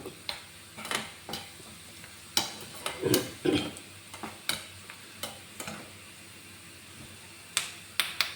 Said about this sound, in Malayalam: ഇതിങ്ങനെ കരിയാണ്ട് വറുക്കണം കേട്ടോ